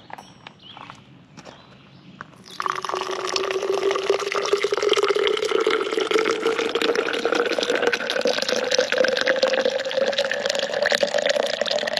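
Hot water pours steadily into a BruTrek French press coffee mug, a continuous close, loud splashing fill that rises gradually in pitch as the vessel fills, starting after a short quieter lead-in.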